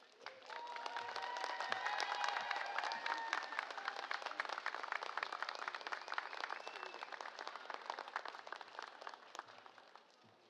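Graduates at a convocation ceremony applaud their parents, families and friends, a large hall of clapping that swells quickly and holds as a dense, even patter with some cheering, then thins at the end.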